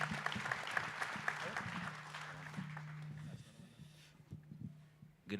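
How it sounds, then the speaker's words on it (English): Applause at a fatherhood summit at Merritt College, a moderate crowd clapping steadily for a few seconds before thinning out, with some voices mixed in. "y'all clap for that."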